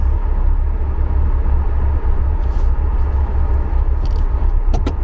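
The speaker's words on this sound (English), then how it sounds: "reverse the car in." A Reliant Scimitar without power steering reverses into a parking spot at a rural home, its engine a loud, steady low rumble with a few faint knocks and clicks near the end.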